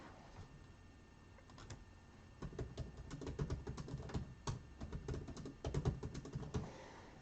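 Fingers type on a computer keyboard during a live card-break stream, a quiet, irregular patter of clicks that grows busier partway through.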